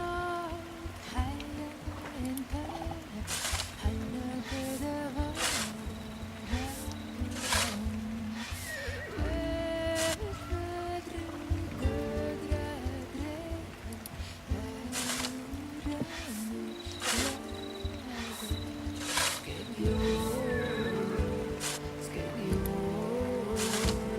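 Repeated horse neighs and whinnies from a video game stable, sitting inside a dense, busy game soundtrack with steady music and effects throughout, the calls rising out at intervals rather than standing alone.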